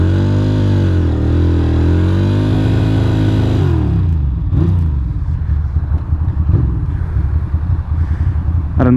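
A Ducati motorcycle does a burnout in heavy rain on a wet city street: a loud, sustained high-revving engine with wavering pitch for several seconds, then rougher clattering revs and tire noise as the burst breaks up.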